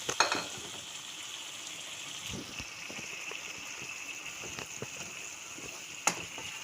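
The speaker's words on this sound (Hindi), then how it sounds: "ये तकरीबन लगभग हमारे 4 दरमियाने टमाटरों का पेस्ट है। और हम इसमें डाल देंगे साथ ही साथ अपनी दही।" Tomato paste and yogurt hit a frying pan, giving a soft, steady sizzle with occasional stirring scrapes and light clicks, and a sharper clack at the start and near the end.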